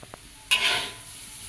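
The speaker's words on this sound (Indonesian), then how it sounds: "kita aduk lagi" A spoon stirs food in a hot pan, starting with a couple of soft taps and then a sudden loud sizzle that hisses steadily as the food is turned, close up with no talking.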